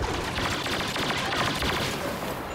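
Rapid, sustained weapon fire from a high-damage gun in the Star Wars Battlefront video game, a dense, loud, unbroken burst of shots lasting a couple of seconds with no voices over it.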